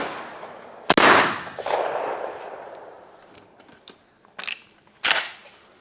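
A Benelli shotgun with an Advanced Impact barrel and light modified choke fires at clay targets outdoors, giving several sharp, loud reports, one near the start and two more close together near the end, each trailing off into a fading echo.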